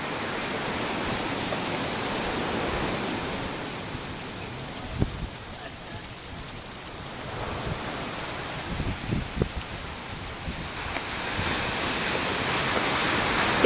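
River rushing beneath a bridge in Puerto Vallarta's Malecon area, a continuous broad wash of flowing water with a few faint thumps and scattered nearby sounds over it.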